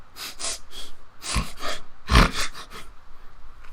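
A voice imitates a large wild creature sniffing and snorting at the air, making several loud, breathy bursts in an uneven rhythm, with the strongest snorts near the middle. No other voices are heard.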